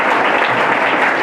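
Schoolchildren clapping together as a group, a steady dense patter of many hands held close and loud for about a second with no voices over it.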